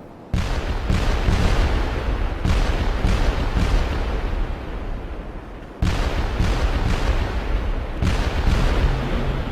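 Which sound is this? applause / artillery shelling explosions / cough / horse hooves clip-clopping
artillery shelling explosions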